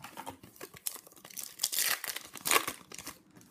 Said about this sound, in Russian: Не хочет открывать пакетик.